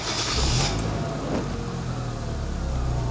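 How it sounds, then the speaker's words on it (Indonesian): The automatic engine of a 2010 Hyundai i10 starts with a short whirring crank and settles into a steady idle, close and continuous. "Saya akan nyalakan mesinnya."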